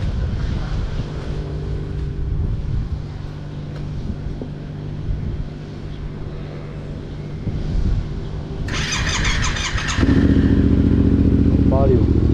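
A Yamaha Raptor quad, freshly washed and wet after an engine explosion, coughs into life near the end and settles into a loud, close, rumbling idle after a stretch of quieter background noise.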